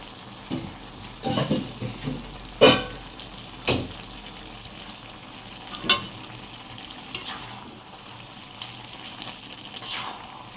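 Fried fish heads being stirred into a pan with mustard paste for a Malabar spinach dish: soft background sizzle broken by a handful of separate scraping and clattering stir strokes, close and moderately loud, with no talking.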